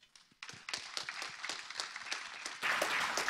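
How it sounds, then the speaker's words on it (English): A conference audience breaks into applause, starting with a few scattered claps that build into dense, steady clapping from a room full of people. "So please join me in a round of applause."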